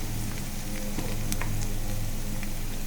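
Crushed garlic sizzling in hot oil in a pan, a steady close crackling fry throughout with no talking.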